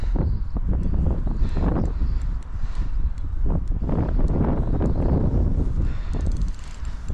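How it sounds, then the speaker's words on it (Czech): Strong gusting wind beside the Elbe river buffets the microphone in loud, rumbling low roars that swell and ease continuously throughout. "ten vichr je hroznej"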